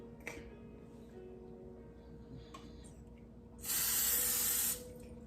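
Cooking spray is spritzed onto a pan before blueberry pancakes made with quinoa and rice flour, giving a single loud, steady hiss of about one second over quiet kitchen background with faint ticks.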